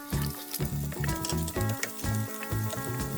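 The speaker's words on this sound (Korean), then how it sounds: "양파도 잘게 송송 썰어 함께 볶아주고" Chopped onion stir-fries with ham in scallion oil in a pan while making kimchi fried rice, a loud, steady sizzle broken by rhythmic scraping and stirring strokes, with no talking.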